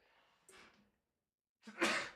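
A single sneeze bursts out loud and close, preceded by a softer breathy intake or earlier sneeze-like exhale, with a short silence between them during a podcast-style conversation.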